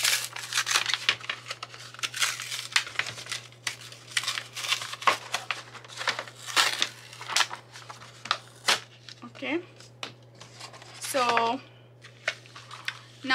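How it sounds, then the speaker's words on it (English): Sharpie marker packaging being opened on a craft table, with repeated crinkling, tearing and rustling bursts of plastic and cardboard, close and fairly loud, while a person talks intermittently in the background. "And let's open these Sharpies also."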